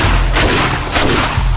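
Heavy gunfire in the zombie survival game 7 Days to Die, loud booming shots packed close together in a dense, continuous barrage that fills the whole moment.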